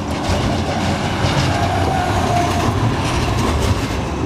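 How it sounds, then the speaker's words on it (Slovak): A city tram passing along a street in Basel, Switzerland: a steady rumbling roll with wheel clatter and a faint squeal, close and loud, filling the whole stretch without any talk. "A tu je električka."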